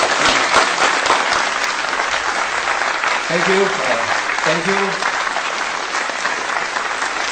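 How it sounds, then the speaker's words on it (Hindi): Loud audience applause welcomes a comedian onto a stand-up comedy stage, steady clapping throughout while he speaks briefly over it. "जोरदार तालियों से इनका स्वागत।"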